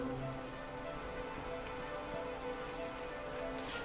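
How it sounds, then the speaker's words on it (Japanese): Rain falling in Dragon Quest XI, a steady, even hiss of drops on a surface with no breaks, fairly quiet and constant throughout. "今雨よ"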